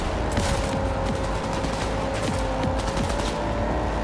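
Rapid automatic gunfire in the video game Cyberpunk 2077, a dense, loud stream of bursts rattling continuously throughout with a faint steady tone underneath.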